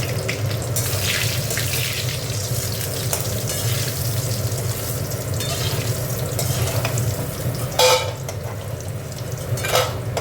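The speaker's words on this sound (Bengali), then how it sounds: "এখানে বড়িগুলো ভেজে তুলে নেবো।" Lentil dumplings (bori) fry in hot oil with a steady, dense sizzle that holds throughout, broken near the end by a couple of brief louder crackles or clinks.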